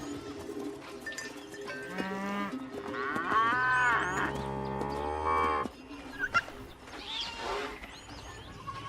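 Cows in a large herd of goats, cattle and camels in a reserve moo loudly in long drawn calls, several overlapping nearby, with birds and scattered herd noise around them.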